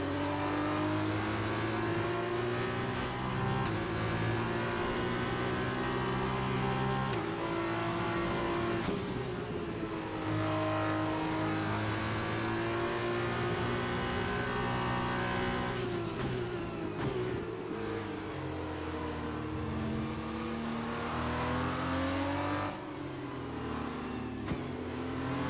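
Formula 1 car in the F1 2021 video game at Silverstone accelerating hard out of a corner, engine note climbing through gears with rising whine and brief shift dips, loud and continuous with no talk.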